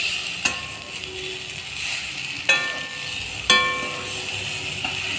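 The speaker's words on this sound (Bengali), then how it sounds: "গুড়টা যতক্ষণ না জাল না উঠবে এটাকে এভাবে নাড়িয়ে যেতে হবে।" Sugarcane jaggery being stirred in a pan, with a soft steady sizzle and three or four sharp metallic clinks of the spoon against the pan, close and alone.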